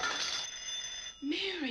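A telephone bell rings steadily for about a second in the film It's a Wonderful Life, then cuts off as a voice begins speaking.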